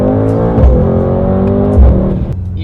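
A Mercedes AMG GT63s in Sport Plus mode with the sport exhaust open revs hard, two sharp throttle blips rising and falling over a deep, loud, close engine rumble.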